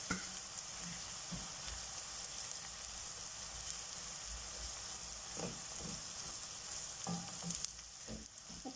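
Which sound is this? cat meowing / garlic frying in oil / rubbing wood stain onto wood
garlic frying in oil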